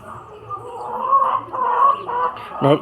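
A rooster clucks and murmurs up close during foot treatment, with a sharper burst of clucking at the end.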